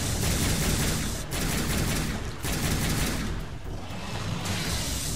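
Rapid, continuous gunfire in Onimusha: Dawn of Dreams, a loud dense fusillade of shots with short gaps and mechanical clatter, no voices.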